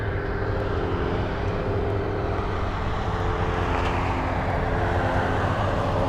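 A large Antonov cargo plane passes over Anchorage, a loud, steady engine roar with a broad rumble that holds unbroken throughout.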